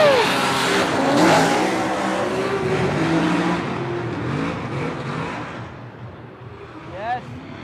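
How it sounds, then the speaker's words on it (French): Chelsea DeNofa's Ford Mustang drift car roars past at Long Beach, a loud engine rev that swells and then fades into crowd and track noise, with a voice talking over it. "tu as vu passer la Mustang de Chelsea Denofa"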